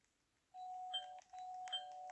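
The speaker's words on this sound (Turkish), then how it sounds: "Yine mi zil çaldı?" Electronic doorbell in the Roblox game Brookhaven rings twice, each a sustained chime tone with a brief gap between, steady and clear with no talking.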